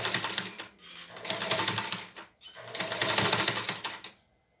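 A sewing machine backstitches fabric scraps for a 3D face mask, running in two close, rapid bursts of mechanical chatter separated by a brief pause before stopping.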